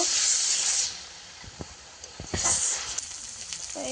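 Shrimp stir-fried in a pan, a loud hiss and sizzle at first that fades, followed by a few faint clinks and scrapes of stirring, no voices.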